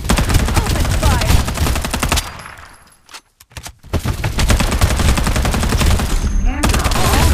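Rapid automatic gunfire in the battle game Farlight 84, loud dense bursts with a short pause in the middle before the firing resumes, with no voices.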